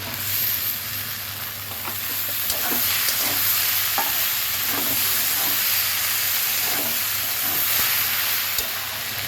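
Okra shakshuka with fried prawns and tomato simmers in a pan with a steady hissing sizzle. A spoon stirs and scrapes it at an irregular rhythm, and no one speaks.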